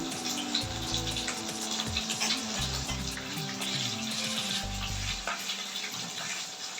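Carrots fry in a pan for sooji upma with mustard seeds and curry leaves, giving a soft, steady sizzle with light crackles beneath a low humming background, fairly faint and with no voices.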